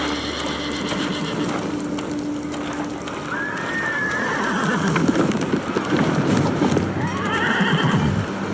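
A samurai's warhorse in the game Ghost of Tsushima whinnies twice, long shaky neighs rising over steady hoof clip-clops and snorting, fairly close and loud.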